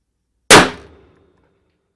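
One loud rifle shot sounds close by and meets a sharp metallic clang from a steel target plate, a single sudden crack that rings out and fades within about half a second.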